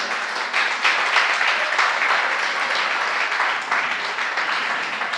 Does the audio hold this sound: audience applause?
yes